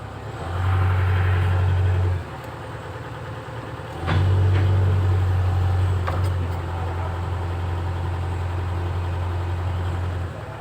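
A Komatsu PC130 excavator engine runs at auto RPM, a steady low diesel drone that rises twice to a stronger hum, with a clunk midway and background noise throughout.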